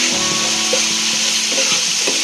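Spice masala sautéed and stirred in a pan for a fish curry, a loud, steady close sizzle with a faint hum underneath and no talking.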